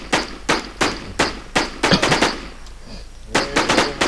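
Gunfire in the online video game WarZ (Regent Z server): sharp, loud shots fired one by one in an even rhythm, a short pause, then a quicker cluster of reports.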